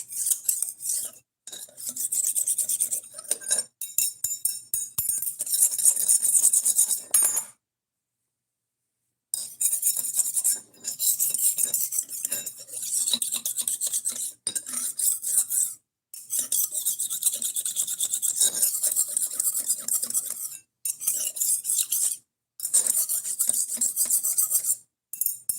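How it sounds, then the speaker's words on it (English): A knife blade rasps back and forth across a sharpening stone in repeated close strokes, bright and scratchy, broken by short pauses between passes. "this is my sharpening stone"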